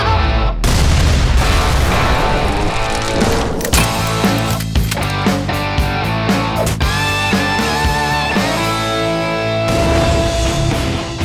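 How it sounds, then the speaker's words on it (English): Gunshots are fired from inside an abandoned cheese factory out through a window at targets, a loud dense series of booming reports with echoing tails filling the space, with no talking. "this is gonna be the perfect location to record gunshots from inside, shooting through the window at some targets"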